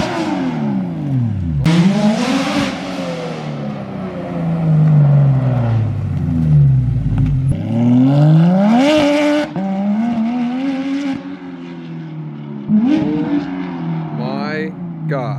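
A Porsche GT3 RS running a straight-piped exhaust with the catalytic converters removed revs hard and loud, its engine note sweeping up and down through several sharp climbs and drops, with a voice heard briefly near the end.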